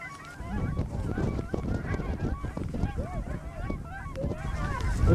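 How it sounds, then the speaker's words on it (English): A flock of geese honks loudly and continuously, many overlapping calls close by, with wind rumbling underneath and a few faint voices. "More geese coming, Kyle."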